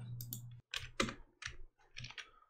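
Computer keyboard keys are pressed in quick bursts for shortcuts, several crisp clicks in uneven clusters with brief pauses, close and clear with no talking.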